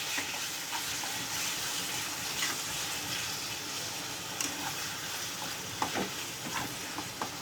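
Marinated chicken added to two tablespoons of hot oil over a normal flame, giving a loud, steady, close sizzle and frying hiss with a few faint pops and stirring clatter.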